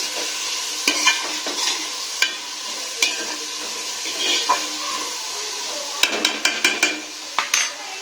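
Fresh ginger stirred and fried in a pan, a steady close sizzle broken by repeated sharp scrapes and clinks of a utensil against the pan, with a quick cluster of clinks near the end.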